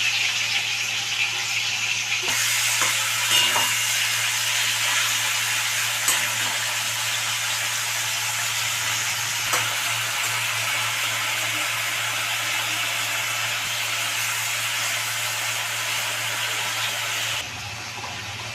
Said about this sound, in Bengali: তেলটা গরম হয়ে গেছে এখন আমি চিংড়ি মাছটা দিয়ে দিলাম দিয়ে ভেজে তুলে রাখলাম